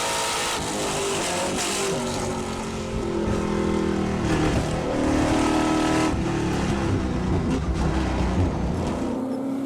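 Trans Am race cars lap the Portland circuit in a late stage of the race, engines roaring loud and continuous with shifting pitch as cars pass, a dense steady wall of racing noise with no talk.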